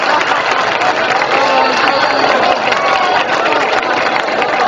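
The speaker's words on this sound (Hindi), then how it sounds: "दोस्तों भरपूर तालियां बजाना।" Audience applause at a comedy mushaira, a dense and loud roar of clapping from a large crowd that stays constant throughout, with no break.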